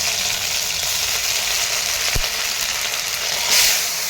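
Spice paste hitting hot oil in a wok (kadai) already tempered with panch phoron, bay leaf and dried chilli, for a cauliflower and potato curry: a steady, close sizzle with one dull low thump midway and no voices.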